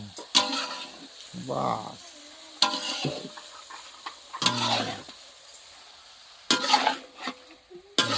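A spoon scrapes and stirs spice masala in a hot pan, giving short rhythmic bursts of sizzling and scraping between pauses, with a voice speaking now and then.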